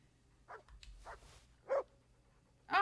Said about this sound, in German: Ah, da ist mein Hund wieder.